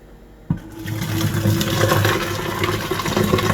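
Water rushes and churns steadily after a sudden onset, a loud turbulent boiling from an electric kettle with a 1.2 liter maximum heating water for tea, continuous and close.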